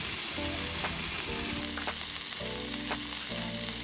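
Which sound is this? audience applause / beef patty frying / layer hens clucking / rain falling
beef patty frying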